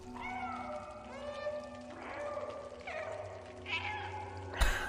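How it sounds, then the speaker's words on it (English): Cat meows from the video game Stray, several repeated meows in quick succession, fairly close and clear over faint game ambience, ending with a louder burst. "I can spam meow in cutscenes."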